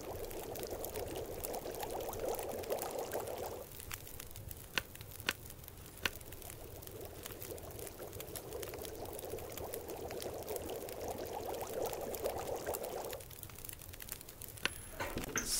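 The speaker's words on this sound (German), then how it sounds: "dann nehmen wir auf jeden Fall noch 1 Liter Schnee, schmelzen und nachher nochmal schön aufkochen" Snow melting and water boiling over a fire in the survival video game The Long Dark, a steady rushing, bubbling hiss that runs continuously with a few faint clicks.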